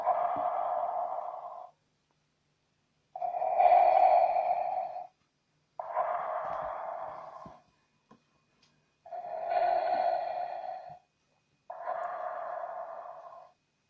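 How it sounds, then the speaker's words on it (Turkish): Darth Vader's slow, heavy mechanical breathing through a mask from a sound book, five long hissing inhales and exhales separated by short silences, close and steady. "Darth Vader suratına takılan maske sayesinde nefes almaya başladı"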